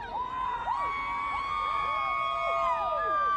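A crowd at the UGA championship parade whoops and cheers, with rising and falling shouts and sustained tones layered over a steady roar.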